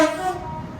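Tail of a horn blast from a passing Class 380 train, the tones fading quickly into rolling wheel and track rumble.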